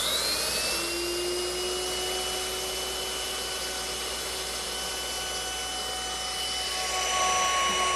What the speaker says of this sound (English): I'll use the same router setup that I used before.